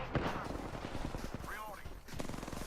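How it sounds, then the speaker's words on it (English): Rapid bursts of gunfire from a video game shooter crackle in a dense, steady barrage while a player talks over them. "Making contact with enemy. I'm getting shot."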